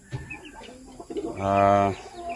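Japanese Shamo chickens in a backyard farm give a near, loud harmonic cluck or crow-like call lasting about half a second, preceded by scattered softer bird calls and faint background sounds.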